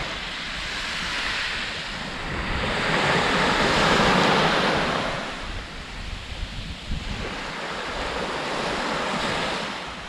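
Waves wash steadily onto a secluded beach at Sikia, Greece, a continuous broad surf hiss that swells and recedes in slow surges, with some wind buffeting the microphone and no voices.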